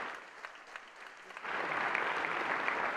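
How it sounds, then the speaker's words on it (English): Audience applause for a retiring colleague at a college address, starting faint and swelling into steady, moderately loud clapping in the second half. "let's give her a round of applause and best wishes for her retirement"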